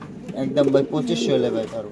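Satin pigeon kept for sale cooing in soft, repeated rounds close by, mixed with people talking over it.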